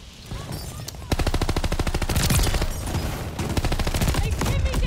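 Gun hip fire in the video game Call of Duty: Vanguard, with a drum mag: loud, rapid automatic bursts of shots in quick, steady rhythm with short pauses between bursts, close up.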